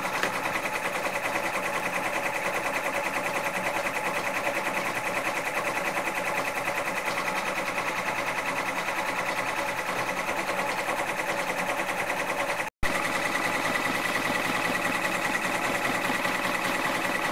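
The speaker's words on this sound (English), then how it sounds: "So I'm going to go ahead and let this stitch out" An embroidery machine stitches out a left chest logo with a loud, steady, fast mechanical whir and needle chatter that runs continuously and close up, with one momentary break near the end.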